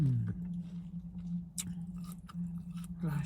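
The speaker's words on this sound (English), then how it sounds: "These grapes are lush, they're crunchy." Someone chews crunchy grapes close up, giving wet, squishy bites and crunches in an uneven rhythm over a steady low hum, with no talk.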